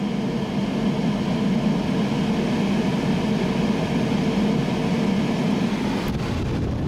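Condenser fans on a Honda Pilot run at low speed, producing a steady, even whooshing drone that holds constant from start to finish without any talking.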